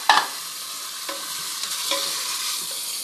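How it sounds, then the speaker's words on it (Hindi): Mutton pieces dropped into hot ghee for a Peshawari namkeen rosh: an initial clatter, then a steady, bright frying hiss with a few light stirring knocks. "घी थोड़ा गर्म हो गया है, मैं गोश्त को इसमें फ्राई करने के लिए डाल रही हूँ।"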